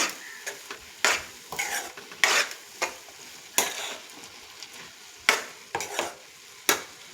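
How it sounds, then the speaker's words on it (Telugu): A spoon scrapes and stirs Telagapindi curry in an oily pan, sharp scraping strokes coming at an irregular rhythm over a soft background sizzle, close and clear with no talking. "అడుగంటకుండా కలుపుకోవాలి."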